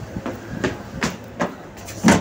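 A metro train on line B comes to a stop, with a regular series of rail clacks and thumps as the cars slow, loud and close, ending in a heavier jolt.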